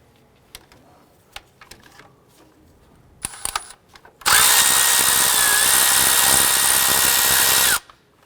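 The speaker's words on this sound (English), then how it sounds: "I'm going to remove this 10mm nut right here." A power tool, likely an impact driver, spins off a 10mm nut on the cam cover of a 2001-2005 Honda Civic: a few faint clicks and a short burst, then a loud, steady whirring run of about three and a half seconds that cuts off sharply.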